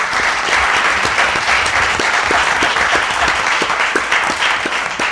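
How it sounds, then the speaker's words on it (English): An audience at a business sustainability event applauds its speakers with steady, dense clapping that fills the room for several seconds, loud and even throughout. "I just want to give them a round of applause."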